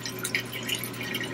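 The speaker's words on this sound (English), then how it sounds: "actually use our flex hose with a nozzle and wash" Water sprays from a flex hose nozzle to rinse out a toilet in a tiny home, a steady close hiss with small drips and splashes running throughout.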